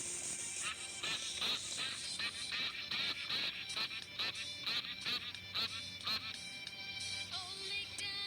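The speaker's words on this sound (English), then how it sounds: "And on that farm there were some ducklings, E-I-E-I-O. With a quack quack here and a quack quack there" Cartoonish duck quacks sound in the farm nursery song Old MacDonald, repeating in a bouncy rhythm over light music, bright and fairly clear.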